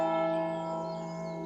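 Magdalen College Tower bells ring out with a sustained, resonant chime, their overtones slowly decaying with no voices present.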